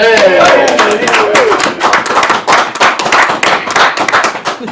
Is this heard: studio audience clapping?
yes